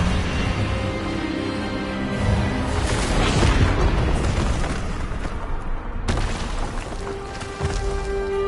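A Hogwarts Legacy Expelliarmus spell blast booms out in a dense, roaring burst of magical impact, followed by crackling, rumbling aftermath and a sharp hit late on.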